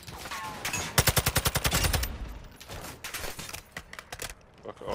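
Rapid bursts of automatic gunfire in the video game DMZ, a tight string of close, loud shots followed by scattered single cracks and short volleys, with no talking.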